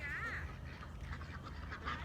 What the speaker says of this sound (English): She's got special food for the ducks.